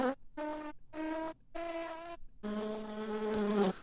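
Bee buzzing pitch-shifted to several different pitches, four short separate bursts followed by a longer sustained drone, close and fairly loud.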